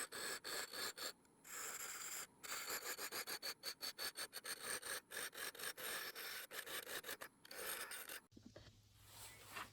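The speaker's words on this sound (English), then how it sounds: "I want to take a hollowing tool of some type" A Trent Bosch hollowing tool cutting the inside of a small wooden vase, a quick series of rasping, scraping strokes with short pauses between them, close and fairly quiet.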